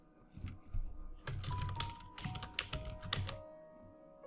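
Quick clatter of keys on a computer keyboard as a page title is entered, a short run of close, crisp taps over a faint background tone.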